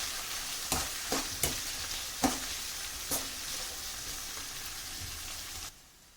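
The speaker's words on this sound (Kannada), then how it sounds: "ಇವಾಗ ಕ್ಯಾಪ್ಸಿಕಮ್ ಸೇರಿಸ್ಕೊತಾ ಇದ್ದೀನಿ. ಇದು ಸ್ವಲ್ಪ ಚೆನ್ನಾಗಿ ಫ್ರೈ ಆಗಬೇಕು." Chopped capsicum fries in a pan with a steady hiss, broken by several sharp scraping stirs in the first half, before the sizzle drops away abruptly near the end.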